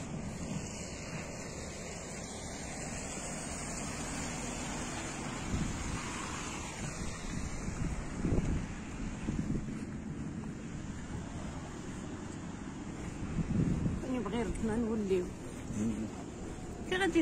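Floodwater from a swollen river rushes past after heavy rain near El Aioun Sidi Mellouk in the Oujda region, a constant broad roar with wind buffeting the microphone and voices speaking over it.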